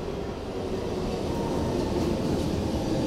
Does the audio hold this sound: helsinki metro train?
yes